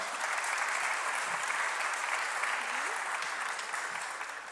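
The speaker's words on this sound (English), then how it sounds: "would you give a round of applause to Chloe and James as they come up?" An audience applauds Chloe and James as they walk up, a sustained, full wash of clapping from a large crowd that stays loud and even before easing slightly at the end.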